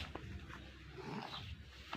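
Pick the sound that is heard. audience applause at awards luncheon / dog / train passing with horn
dog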